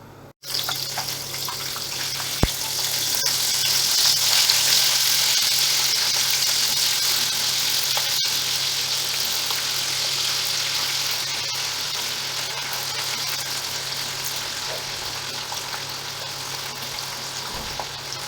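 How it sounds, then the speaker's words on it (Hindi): Chicken tikka boti pieces fry in hot oil in a pan, giving a steady, dense sizzle that holds evenly for the whole stretch with no talking. "ऑयल गर्म हो जाए तो बोटियाँ फ्राई करना शुरू करते हैं।"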